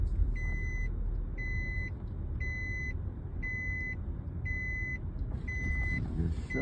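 A car's seatbelt warning chime repeats steadily, six evenly spaced two-tone beeps over a constant engine and road rumble while driving on a highway.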